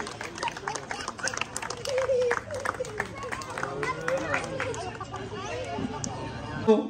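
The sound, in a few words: clapping by the crowd at the club's Durga Puja opening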